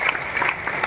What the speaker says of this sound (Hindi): हम दोनों हाथों से कलकल ध्वनि से ताली बजाते हैं